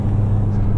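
Engine of a Great Wall Poer pickup loaded with cargo held at full revs against the limiter, a loud steady low drone filling the whole short moment.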